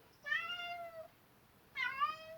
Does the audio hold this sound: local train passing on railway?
no